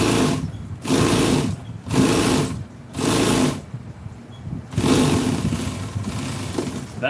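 An upholstery sewing machine stitches a seat cover for a 1966 Chevy truck in several short, loud bursts of rapid whirring, separated by brief pauses.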